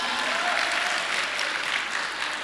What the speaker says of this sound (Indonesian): Oke, tepuk tangan buat kita semuanya.